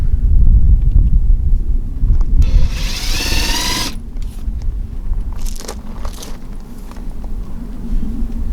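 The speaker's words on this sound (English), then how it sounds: "I'm going to do a starter hole to keep that big drill bit from wandering." A power drill bores a starter hole into a door for a handle, a short high whirring burst of about a second and a half standing out over a background of low rumbling and handling noise.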